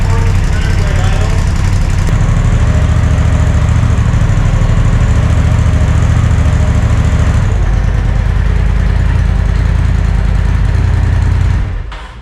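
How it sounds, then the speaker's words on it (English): A Polaris RZR engine runs loud and steady at about 1500 RPM with a constant buzzing drone, held close throughout before cutting off at the end. "Bring it up to 1500 RPM. Already at 1400 way idle."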